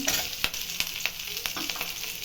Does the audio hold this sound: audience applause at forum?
no